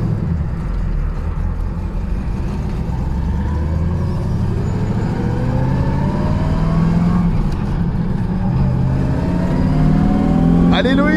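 A 1969 Chevrolet Camaro Z28 V8 driven on the road, its engine note rising and falling through gears with a deep rumbling exhaust, loud and close throughout, with people talking over it.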